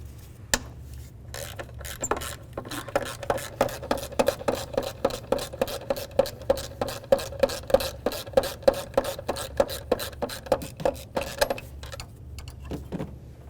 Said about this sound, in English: let's continue on to removing this bolt right here using a 12mm